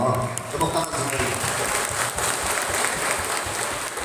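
A mosque audience claps for a hadrah percussion team, a sustained burst of close, fairly loud applause across the room, with a voice speaking over it.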